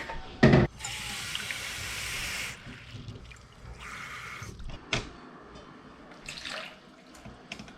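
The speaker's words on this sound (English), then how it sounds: "let's get 1 cup of water from the sink" Water runs from a kitchen sink tap into a measuring cup while batter for onion rings is being made, a steady pour of about two seconds followed by quieter splashes and clinks.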